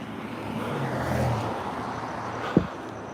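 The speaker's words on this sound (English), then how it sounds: "Gonna wait for this car to pass." A single car passes by on a street, its engine and tire noise swelling and fading over a few seconds, with a brief sharp knock near the end.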